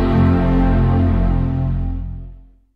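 A Mac computer startup chime: a rich, swelling chord rings out loudly on its own, holding full and steady before slowly fading away over a couple of seconds.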